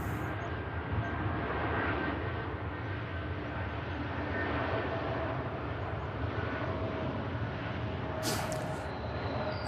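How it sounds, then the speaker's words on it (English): Aircraft engines rumble steadily as planes queue near the runway at Manchester Airport, a continuous broad roar with a faint high whine, with a brief brighter burst near the end. "all these aircraft just waiting patiently for clearance to enter the active here."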